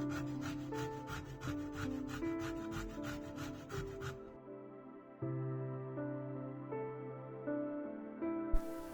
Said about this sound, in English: To add a fresh citrusy flavor, I am taking some orange zest.